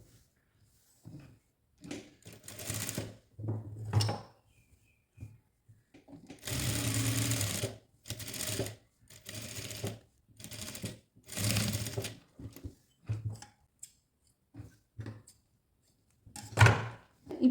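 Sewing machine stitching the neckline of a kurti made with canvas backing, running in several bursts of fast whirring stitches separated by pauses, close and fairly loud with small handling knocks in between.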